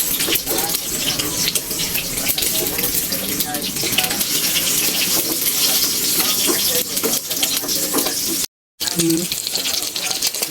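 An egg frying sunny side up for a simple breakfast, a steady close sizzle and crackle of hot oil throughout, with a voice talking over it at moments.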